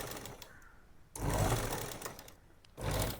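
A sewing machine stitches gents shorts in two quick bursts of rapid, close mechanical whirring and clatter, separated by a short pause, with faint background hum between.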